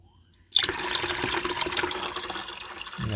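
Water suddenly rushes after a water heater drain valve is opened, a steady close hissing flow that starts abruptly from near silence and continues evenly.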